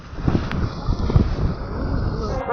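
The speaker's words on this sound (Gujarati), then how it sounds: "આ પવન છે ને વાવાઝોડા જેવો છે" Strong, storm-like wind by the sea buffets the microphone in heavy rumbling bursts, roaring and fluctuating over a couple of seconds.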